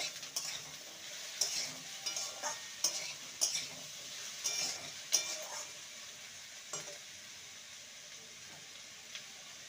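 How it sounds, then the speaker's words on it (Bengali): Okra frying in a pan over low to medium heat gives a soft, steady sizzle broken by repeated scraping stirs, the clatter coming in bursts that thin out toward the end. "লো টু মিডিয়ামে রেখে ভেন্ডিটাকে ভেজে নেব।"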